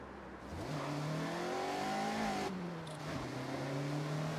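Mazda Miata engine in the Forza Horizon 6 racing game, revving up steadily with a rising pitch, a brief dip and gear change midway, then holding a loud, continuous drone.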